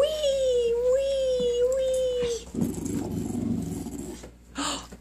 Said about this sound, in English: Can you growl again and make it cute?